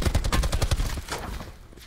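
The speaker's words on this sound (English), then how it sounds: "Oh, getting shot from somewhere else." Rapid gunfire in Call of Duty Blackout, a dense burst of close, loud shots that trails off into echoing decay over about two seconds.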